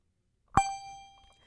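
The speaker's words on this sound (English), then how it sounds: "You simply put your thumb or even extra fingers on the casting of the bell to give a very light staccato effect." One handbell from a handbell quartet is struck once, a bright clear ding with a short ringing tail that fades within about a second, alone against silence.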